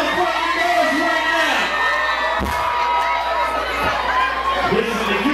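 Party crowd cheering, whooping and shouting at a DJ event, a loud sustained roar of many voices with a few sharp thumps.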